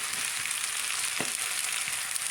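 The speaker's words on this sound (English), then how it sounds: "now we're gonna stir it around" Broad steady sizzle of cheesy carbonara frying in a pan with Monterey Jack and Italian seasoning, with a couple of faint scraping stirs, close and continuous with no talking.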